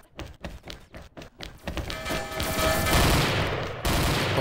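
Gunfire in the online shooter XSHOT: a quick run of separate shots, then a dense, loud, sustained burst of rapid automatic fire that stays close and continuous to the end.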